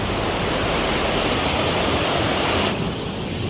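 Mountain stream water rushes through the Valley of Flowers, a loud, steady, close roar of flowing water that softens slightly near the end.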